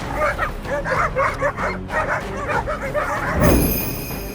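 Several dogs bark and yip rapidly in an agitated chorus at a wild cat, close and loud, ending in a sudden rising rush of noise.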